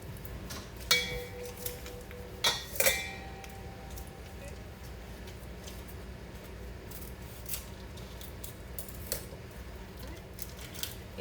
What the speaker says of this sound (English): I'm going to then open the Rotel, diced tomatoes and green chilies, and I'm going to drain those